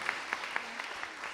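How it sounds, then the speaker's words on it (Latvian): Applause from an audience at a children's reading festival event, scattered claps spread evenly across a short stretch at moderate level with no talking over it. "Paldies, aplausi!"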